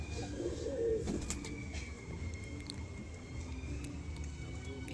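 Pet pigeons cooing softly in a loft, a low murmuring coo near the start and then faint rustles and clicks over a quiet background, with no talk.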